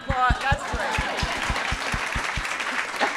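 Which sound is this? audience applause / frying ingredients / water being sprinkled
audience applause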